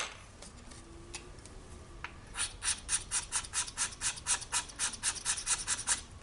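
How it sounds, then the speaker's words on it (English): Pastel sticks scraped for coloring polymer clay, giving a run of quick, rhythmic rasping strokes that grow steadier and louder after a quiet start, close up with no talk. "Now just scrape out the colours that I think we'll use."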